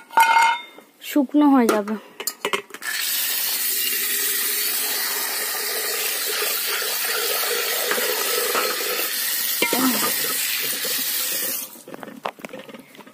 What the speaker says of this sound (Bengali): হাঁড়ি আর এইসব নিয়ে এখন বাসন ধুতে এসেছি।